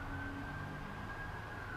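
An ambulance siren near a hospital holds a steady high wail, faint and continuous over a broad wash of distant traffic rumble, with no talk.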